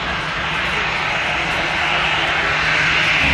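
A fixed-wing airplane's engine makes a steady, broad roar that swells slightly toward the end, heard alone without talk.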